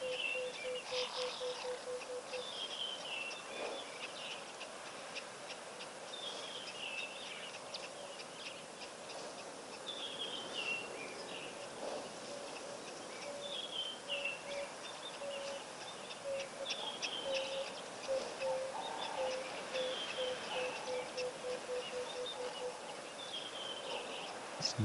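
Bird calls in the African bush, including owl-like hoots and repeated chirping phrases, with a steady insect and wildlife ambience behind them and no talking.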